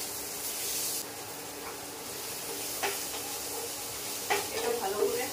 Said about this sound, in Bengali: তেলটা গরম হয়ে যাওয়ার পর আমি এই পেঁয়াজ কুচিগুলো এর মধ্যে দিয়ে দেবো।